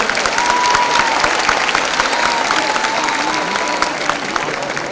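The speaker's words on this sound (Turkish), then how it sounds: "Bir alkışla onu alalım." An evening event audience in Osmangazi applauds steadily, a dense, sustained burst of clapping, with faint voices rising through it.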